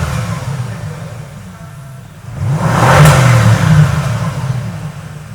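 A Bentley Continental GT's 528-horsepower 4.0-litre twin-turbo V8 revs once, swelling into a loud deep roar for about a second before easing back to a low idle rumble.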